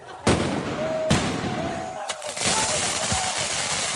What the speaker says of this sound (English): young people shooting off fireworks